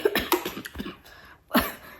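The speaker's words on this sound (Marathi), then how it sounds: "परत खोकला माझा वाढतोय" Repeated coughing from a person with a worsening cough, a burst of several quick coughs followed by a pause and one more loud cough, heard close up in a home after a meal.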